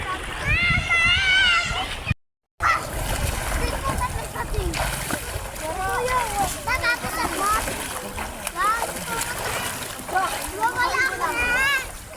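A baby splashes in shallow sea water on a beach holiday, with steady close watery slaps and sloshing throughout, under children's and adults' voices talking nearby, broken by one brief silent cut.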